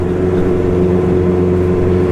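A Honda CB 650 R motorcycle engine holds a steady, droning hum with a constant low tone, pulling gently at low speed in a high gear under light throttle, loud and close with no voices.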